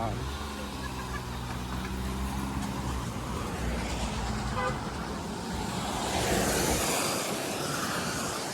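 Cars and other vehicles rush past on a congested Kerala highway, a steady roar of traffic with a louder whoosh near the end and a brief horn toot among the engine noise.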